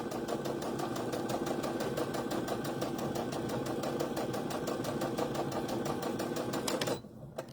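A sewing machine stitches fabric in a fast, even, mechanical rattle that runs steadily and close for about seven seconds, then stops abruptly, leaving near silence.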